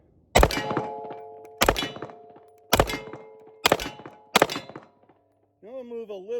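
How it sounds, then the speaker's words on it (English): Smith & Wesson M&P9 Metal HD steel-frame 9mm pistol fired in five loud, sharp shots spaced roughly one second apart, each with a ringing tail, followed by a brief voice at the end. "Let's get back to shooting so you can see it."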